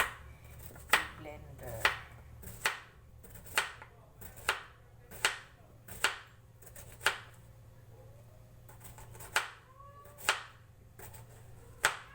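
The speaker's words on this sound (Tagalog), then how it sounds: "So, so slicing muna natin siya." A knife slices through peeled cucumber on a cutting board in steady, crisp chops, about one per second, close and clear with no talking.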